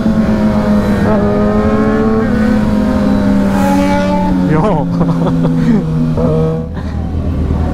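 A BMW F900 motorcycle engine humming steadily and loudly while riding, with pitch shifts as it revs and eases off, under a voice talking.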